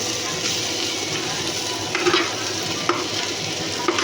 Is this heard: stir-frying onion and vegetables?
yes